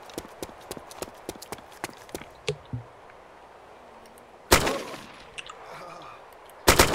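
Gunfire in the survival game DayZ, likely a Winchester rifle: a burst of many sharp rapid clicks early on, then two loud heavy blasts, one mid-clip and one near the end.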